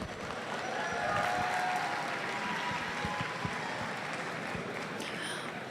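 Audience applauding at a 2023 high school robotics competition, a dense steady wash of clapping from a large crowd filling an indoor venue, swelling briefly and then holding.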